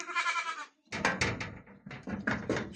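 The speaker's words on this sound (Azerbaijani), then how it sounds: "Böyük oğlaqlardılar." Two-month-old goat kids bleat in a series of short, wavering calls, one drawn-out cry followed by several quicker bleats, near and clear with no talk.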